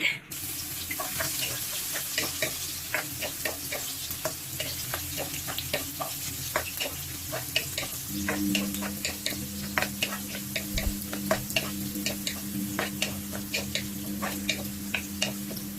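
Oil heating in a pan for adobong pusit (squid adobo), a close, steady crackle of small pops and spits over a low hum, running throughout with no talk.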